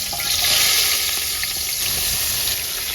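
Sliced onions dropped into hot oil already used for frying fish, with a steady broadband sizzle and bubbling throughout, fairly close and even in level.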